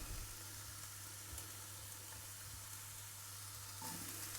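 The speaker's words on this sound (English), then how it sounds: "Just going to fry the peppers first." A quiet, steady sizzle of peppers frying in a little oil in a frying pan, continuous and unbroken with a low hum beneath it.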